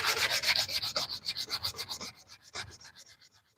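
A knife is sanded by hand with 80 grit abrasive, giving close, steady rhythmic rasping strokes that slow and soften toward the end, with no talking.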